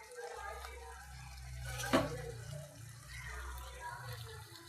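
Water splashes into a pan while dried anchovy cooks, a quiet home-kitchen sound with one brief sharp pour or clatter midway over low background noise.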